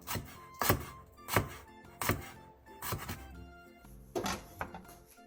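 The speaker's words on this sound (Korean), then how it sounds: "홍고추 1개는 어슷 썰게 해주세요." A knife slicing a red chili diagonally on a cutting board, about eight crisp, separate chops in an uneven rhythm, close and clear with no talk.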